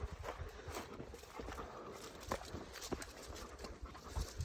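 A dog pants and moves along a rugged trail on a remote San Diego hike, its breathing and footfalls steady and close amid outdoor rustle, with no talking.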